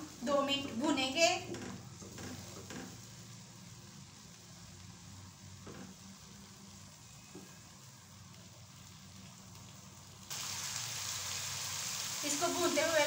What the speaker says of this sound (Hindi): अदरक लहसुन का पेस्ट जो हमने बना लिया था, 2 टेबल स्पून। और इसको मज़ीद हम 2 मिनट भूनेंगे।